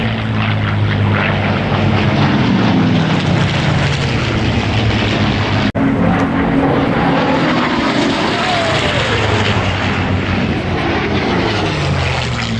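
Several P-51 Mustang propeller fighters fly past at the Duxford air show, their piston engines giving a loud, continuous droning roar that swells and shifts in pitch as they go by, with no talking.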